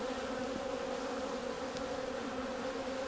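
Honey bees buzz continuously in an opened hive colony during an inspection, a dense, steady drone that holds close and even throughout, with no voices over it.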